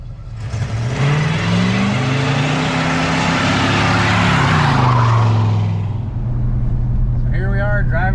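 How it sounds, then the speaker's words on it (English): A 1968 Oldsmobile 98 drives down the road, its engine a loud, steady drone with a shift in pitch partway through, then fading as a voice comes in near the end. "So here we are driving down the road."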